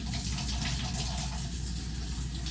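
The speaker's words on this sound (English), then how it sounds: "I gotta wait for a second to get my water hot." A kitchen tap runs steadily at full flow, a broad hissing gush of water splashing into a sink, continuous and close with no talking.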